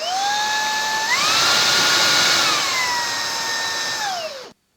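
Shark IZ380UKT cordless vacuum cleaner whirring steadily alone, its motor pitch rising as suction is increased, holding high, then easing back down before cutting off abruptly.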